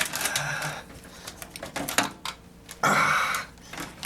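Small plastic power-supply cable clip being pried and unclipped inside a desktop computer: scattered sharp clicks, snaps and scraping taps up close, with a louder grinding rasp near the end.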